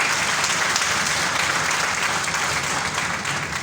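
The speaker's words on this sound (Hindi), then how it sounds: "एक बार जोरदार ताली होनी चाहिए।" A dense, loud burst of applause fills the whole stretch as an audience at a Hindi-language stage event claps steadily with no break and no voices on top.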